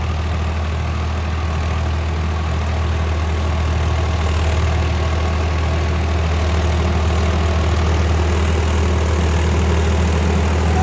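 A Swaraj 855 tractor runs steadily in third gear while pulling a super seeder, heard as a loud, continuous low engine drone with a constant rumble and no talking.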